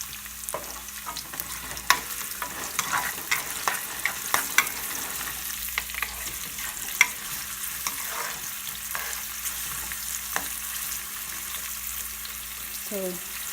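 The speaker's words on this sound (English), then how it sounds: "onions." Onions sizzle and fry steadily in a pan for chicken curry, broken by scattered clinks and scrapes of a spoon stirring, with no talking.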